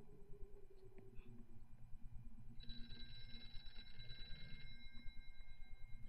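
A telephone ringing in the VR horror game Here They Lie, a faint electronic ring heard in the distance under a steady, rhythmic thumping and low background rumble.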